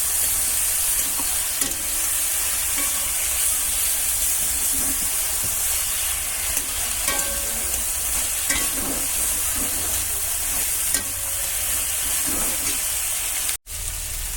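A thin curry of live pond bata fish is stirred in a frying pan, producing a steady, close sizzle and hiss with soft scraping strokes throughout and no talking.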